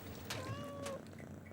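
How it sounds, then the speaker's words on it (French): A black cat gives a single short, quiet meow with a rising and then falling pitch, heard alone against a faint low background hum. "c'est qu'un chat noir"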